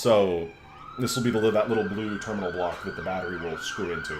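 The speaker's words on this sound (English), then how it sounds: "apologies for the siren in the background" An emergency vehicle siren wails in the background during a soldering session at a workbench, its rising and falling tone running steadily beneath close-up speech throughout.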